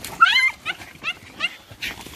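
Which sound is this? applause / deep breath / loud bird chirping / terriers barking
terriers barking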